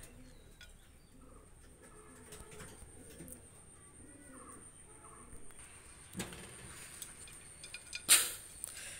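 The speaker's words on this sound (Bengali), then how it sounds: "দুইটা রানিং কবুতর নিয়ে আসলাম, ডাবলা কবুতর" Two dabla pigeons coo softly in a series of low, rounded calls, close by and fairly quiet, with a few sharp knocks and a brief rustle near the end.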